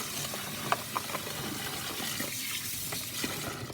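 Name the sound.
rinsing fresh rosemary under running tap water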